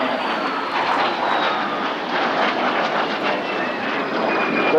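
A vintage aircraft passes over the Eastbourne Airshow, its engine roar loud and sustained with a slowly shifting pitch as it moves across the sky.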